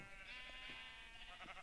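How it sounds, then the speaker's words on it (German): Sheep in Minecraft bleat in a video game, a few short wavering calls in quick succession over a steady hum of game sound. "Gucken wir uns noch mal seine tollen bunten Schafe an."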